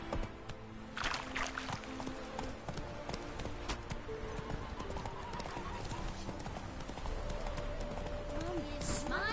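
Horse hooves clip-clopping at a steady gallop rhythm in The Witcher 3, with occasional whinnies and game music and voices over the top throughout.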